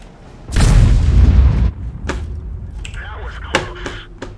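In a tank video game, a self-propelled artillery gun fires one loud booming shot that rumbles for about a second. Sharper clanks and impacts follow, and low game sound continues underneath.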